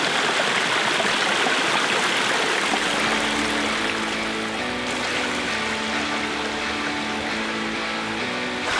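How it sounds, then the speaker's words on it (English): A mountain stream with small waterfalls on Mount Takao rushes steadily nearby, a constant broad hiss of flowing water with a faint hum entering partway through. "it's lovely hearing the sound of the stream and the mini waterfalls"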